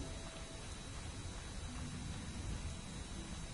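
Storm rain falls steadily in The Witcher, a dense even hiss of downpour that holds at a constant level throughout with no voices over it.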